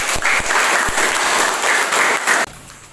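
A classroom group claps together for about two and a half seconds, a loud dense applause with a few sharper individual claps, ending abruptly into quiet room tone.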